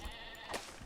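Sheep bleating in the survival crafting game Craftopia: a single close, clear bleat rising out of a soft ambient game backdrop, with no talk over it.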